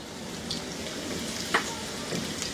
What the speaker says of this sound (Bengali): আমি মাঝারি আঁচে ভাজতেছি